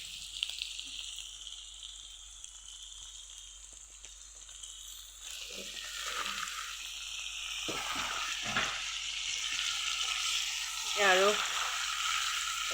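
Pork and taro fry in a pan with a steady loud sizzle, bursts of scraping as the pieces are stirred, and someone speaking briefly over the cooking.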